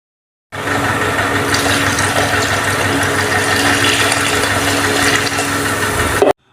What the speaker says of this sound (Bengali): মাছের ঝোল পরিমাণ জল দিয়ে দেবো